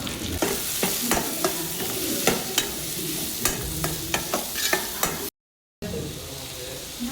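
Small onions sizzle in hot oil with cumin seeds in a pan, a steady frying hiss broken by regular close scraping clacks of a spoon stirring, with a brief silent gap near the end.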